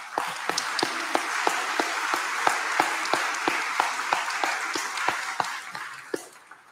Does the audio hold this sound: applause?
yes